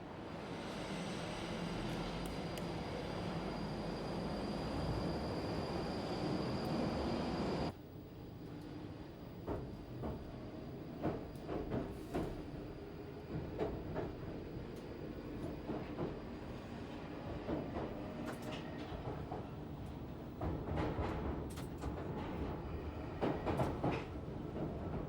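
A London Underground Northern Line train on the West End branch runs through the tunnel. A loud, steady roar gives way suddenly to quieter rattling and clicking of wheels over the track, heard from on board.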